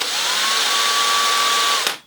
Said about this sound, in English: Oh, my drill's not quick enough.